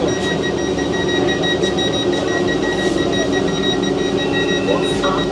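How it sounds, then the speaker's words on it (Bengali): A door-closing alarm on a Vande Bharat sleeper train stopped at a station platform: a continuous high electronic beeping tone over loud train and platform rumble, near and steady. "অলরেডি এখানে অ্যালার্ম বাজতে শুরু করে দিয়েছে"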